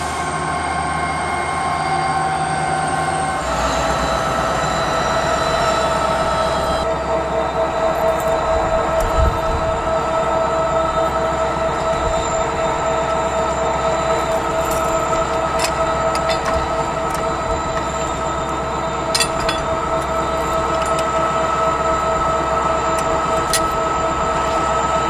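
Norfolk Southern train 152, an all-EMD locomotive consist, rolls into a siding with a steady, loud rumble of engines and wheels, high wheel squeal and tonal hum continuing for the full stretch.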